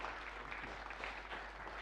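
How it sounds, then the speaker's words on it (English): An audience at a magic show at The Magic Circle gives a steady, continuous round of applause for a volunteer, the clapping dense and even throughout with no break. "one last round of applause for Nick"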